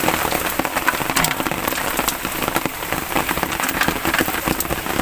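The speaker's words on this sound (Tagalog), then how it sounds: "tubig na ng ano, tubig ano, ulan." Steady rain patters densely on a surface nearby, a constant hiss of drops with no voices.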